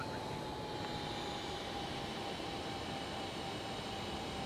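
Aircraft engine in Microsoft Flight Simulator, a steady broadband roar with a faint high whine, constant and unchanging throughout.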